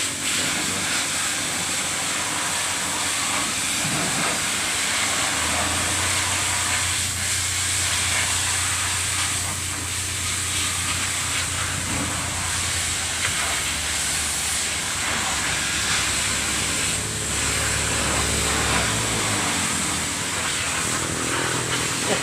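Water spraying hard onto a car during a wash, a loud continuous hiss close by that holds steady throughout, with a low droning undertone underneath and no talking.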